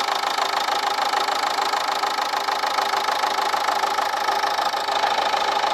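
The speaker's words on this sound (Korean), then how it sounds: "엔진 소리 먼저 한번 들려드릴게요." A Renault Samsung SM5 diesel engine idles with the bonnet open, heard close at the engine bay as a steady, even diesel clatter and rumble that holds constant throughout.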